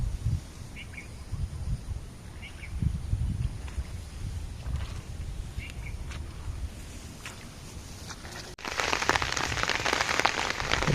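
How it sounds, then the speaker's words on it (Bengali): Light drizzle patters steadily in a rural village, a soft, continuous hiss that grows noticeably louder and denser near the end, with faint bird calls in between. "বৃষ্টি হচ্ছে আবার বৃষ্টি ঘন্টা খানেক মোটামুটি বিরতি দিছিল আবার বৃষ্টি শুরু হয়েছে মানে গুড়ি গুড়ি বৃষ্টি"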